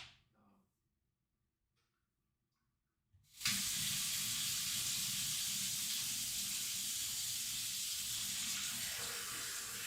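Tap water gushes into a kitchen sink, starting abruptly after a quiet few seconds and then running as a steady, loud, hissing splash for the rest of the moment.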